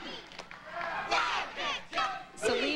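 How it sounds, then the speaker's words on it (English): A crowd at a University of Kentucky cheerleading competition yells and cheers in loud rising shouts and chants, several surging waves of voices over a few seconds. "Well, Amy, you hear the crowd response."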